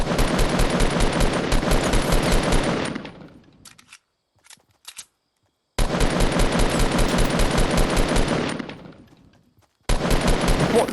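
Rapid automatic gunfire in Fortnite on PS4, two long dense bursts of loud shots separated by a short lull with a few scattered single shots, then a third burst starting at the end.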